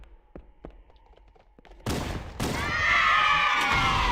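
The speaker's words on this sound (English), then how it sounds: "another big explosion" A big explosion in the Halo: Combat Evolved game: faint scattered gunfire taps, then a sudden loud blast and a second burst that swell into a sustained, roaring rumble.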